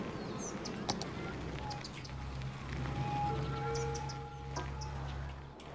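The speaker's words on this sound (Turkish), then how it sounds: "Kuşlar cik cik cik cik cik cik cik cik." Bird chirps in the city-building game Cities: Skylines, short tweets scattered over a steady low ambient hum and tonal game sounds, moderately loud throughout.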